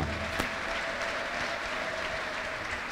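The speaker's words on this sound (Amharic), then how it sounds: "እስቲ አጨብጭቡ ለጌታ" A church congregation claps together in a dense, continuous wash of applause that holds steady throughout, with a brief voice rising over it near the start.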